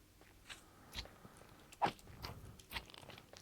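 Quiet, intermittent crunching and chewing sounds from eating a snack in Minecraft, several soft bites spaced irregularly, one slightly louder crunch in the middle.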